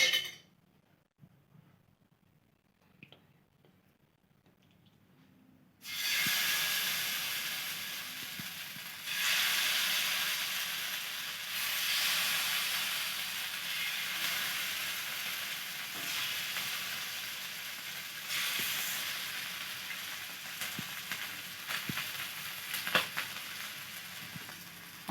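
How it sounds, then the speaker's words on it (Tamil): Fish frying in a little oil on a tawa for a coconut fish fry, near-silence giving way to a sudden loud, hissing sizzle that holds steadily with small surges and occasional clicks, no voices. "நம்ம வச்சுருக்க மீனை இதில் எடுத்து ஃப்ரை பண்ணி எடுத்துக்கலாம்."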